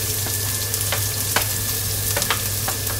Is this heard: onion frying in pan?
yes